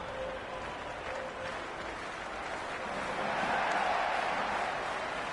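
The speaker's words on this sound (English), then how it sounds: "It's almost palpable, the excitement emanating from this crowd at the moment." A cricket stadium crowd roars in an IPL video game match simulation, a steady wash of cheering and applause that swells toward the end, with faint commentary beneath.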